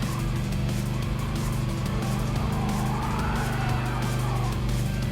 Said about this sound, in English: Smoking up the drift on the rear